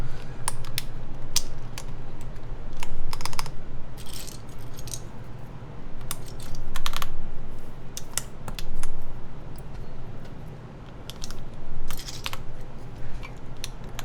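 Matrix Lab mechanical keyboard with foam inside, being typed on close up in clusters of sharp clacks and brief bursts, with uneven pauses between runs of keystrokes over a low background hum.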